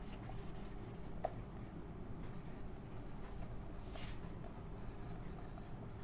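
Pen scratching on paper while notes on plant plastids are written down during a class lecture, faint and steady with soft intermittent strokes and no talk.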